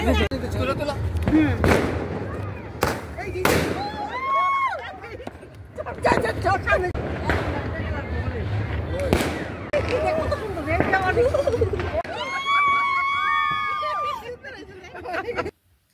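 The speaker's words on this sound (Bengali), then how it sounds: "এই তো আমরা এখন আতশবাজি খেলবো" Small fireworks and firecrackers going off at a modest evening gathering, a few sharp bangs followed by crackling and whistling bursts, with lively crowd chatter and voices throughout.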